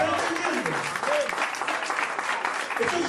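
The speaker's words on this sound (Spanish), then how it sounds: "Den un aplauso al Señor, aleluya." Church congregation clapping for the Lord during a Spanish-language sermon, steady dense applause filling the whole stretch with voices mixed in.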